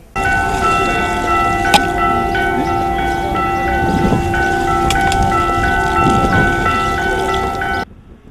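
Church bells ring continuously beside a church during a Palm Sunday tree planting, sustained tolling tones layered over light wind, loud and steady until cutting off near the end.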